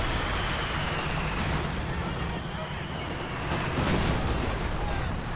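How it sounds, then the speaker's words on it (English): Sexton self-propelled artillery firing in a video game, with booming shots and explosions in dense, continuous battle noise under commentary. "We see the Sexton firing one more time."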